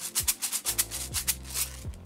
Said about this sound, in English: This one has the rice.